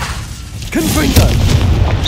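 A Confringo blast from a wand in the Hogwarts Legacy game erupts after a quieter opening, a loud booming explosion that rolls on with rumbling low energy while a voice is heard over it.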